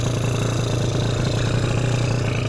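A Yamaha Zuma 70cc scooter with a Polini kit idles while warming up just after starting, a loud steady low buzzing drone with a fast even pulse, close by and with no voices.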